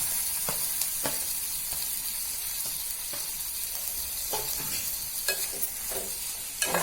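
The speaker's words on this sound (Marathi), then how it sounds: "हा टोमॅटो टाकते।" Chopped tomato dropped into onions frying in a pan, a steady close sizzle broken by repeated scraping clicks of a spoon stirring.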